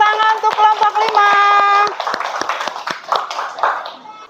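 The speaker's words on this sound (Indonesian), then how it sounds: "Kasih tepuk tangan untuk kelompok 5." A classroom claps for a presenting group, with sharp hand claps in an irregular rhythm at close range, mixed with a sustained sung or spoken voice early on and thinning out toward the end.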